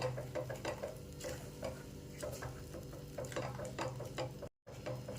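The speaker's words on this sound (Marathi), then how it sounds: "एक दोन ते तीन मिनटं आपल्याला हे वाटण चांगलं तेलामध्ये परतून घ्यायचं आहे" Ground masala paste for veg Kolhapuri sautéing in oil, a soft steady sizzle with repeated scraping stirs, a brief dropout near the end.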